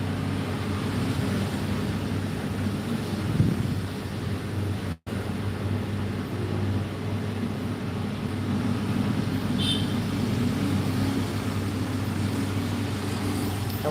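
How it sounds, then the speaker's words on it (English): Busy city traffic in the Dominican Republic forms a steady low roar of distant cars and engines, a continuous far-off wash with one brief dropout and faint higher sounds drifting in, no talk. "It sounds like a bustling city."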